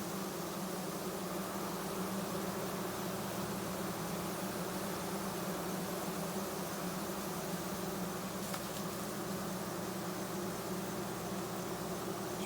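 A queenless honey bee colony in a hive box with ten frames of bees, giving a steady, dense, close drone of buzzing that holds at an even level throughout, with no talk.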